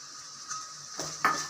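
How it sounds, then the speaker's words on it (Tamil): Onions and garlic sauté with ground masala in a pan, giving a faint, steady sizzle broken by a few quick scrapes and clinks of a utensil stirring against the metal. "இந்த வெங்காயம் பூண்டு எல்லாமே நல்லா வதக்கணும்"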